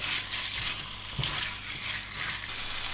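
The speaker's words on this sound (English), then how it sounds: "we mix that in and make sure all the food is coated with that curry paste" Chicken being mixed with curry paste in a hot pan for a Malaysian chicken curry, giving a steady close sizzle and soft stirring throughout, with no talk.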